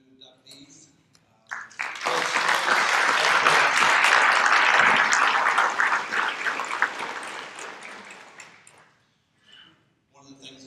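A dinner audience at the Point Pleasant Athletic Hall of Fame 2019 gives a round of applause for new inductees, swelling quickly, holding loud and full for several seconds, then fading out with scattered claps.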